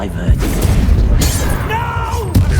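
Confringo spell blasts in a magic video game, loud booming and shattering bursts with sharp cracks, over game music and brief spoken spell names.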